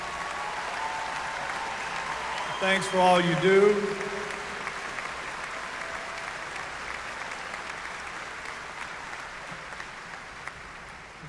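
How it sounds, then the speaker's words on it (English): Sustained applause rises from a large crowd at a spring university commencement in honor of military service members, dense clapping throughout while someone speaks briefly early on. "Let's give them a big round of applause for serving our country."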